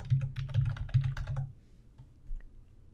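Fingers type on a computer keyboard in a quick burst of close, crisp key clicks for about a second and a half, followed by a quieter pause with a couple of faint taps.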